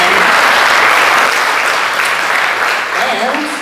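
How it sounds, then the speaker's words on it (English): Audience applause at a school awards ceremony, a loud sustained burst of many hands clapping that holds steady and eases slightly near the end. "so a big applause"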